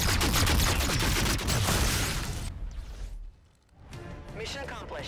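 Dense gunfire and explosions from the video game Call of Duty: Infinite Warfare, loud and continuous for a couple of seconds, then tapering off and returning more faintly under further game sounds.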